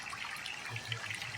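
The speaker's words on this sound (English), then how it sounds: "So I'm going to be pouring this here." Liquid poured into a part of a 1980 Suzuki motorcycle, a faint, steady trickle that runs unbroken through the whole moment.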